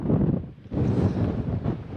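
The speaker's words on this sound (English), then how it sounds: "Grey, mizzly, and quite a strengthening wind." Strong, strengthening wind buffets the microphone on a grey, drizzly Pennine ridge, a low roaring rumble that surges, dips briefly, then gusts back up, close and steady with no voices.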